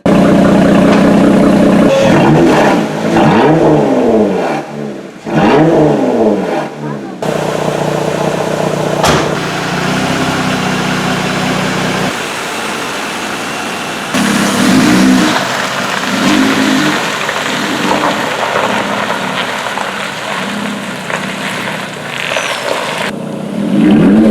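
Jeep Gladiator Rubicon fitted with a Borla aftermarket exhaust revs repeatedly, a loud growling engine rising and falling in bursts, with brief pauses and a steadier idle between the revs.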